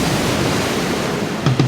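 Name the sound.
sea tide and waves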